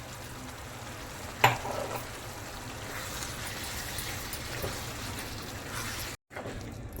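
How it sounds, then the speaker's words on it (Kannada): Mushroom kadhai masala frying in a pan over a medium gas flame, a steady close sizzle with a brief clatter of stirring partway through and a momentary dropout near the end. "ಗ್ಯಾಸನ್ನು ಮೀಡಿಯಮ್ ಫ್ಲೇಮಲ್ಲಿಟ್ಟು ಇದನ್ನು ಒಂದು 2 ಮಿನಿಟ್ ಹೀಗೆ ಫ್ರೈ ಮಾಡಿ"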